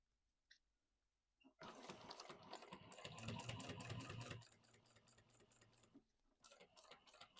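Sewing machine topstitching across the top of a messenger bag, a short quiet start and then a fast rapid motor hum with rattling needle strokes, a brief pause, then stitching again.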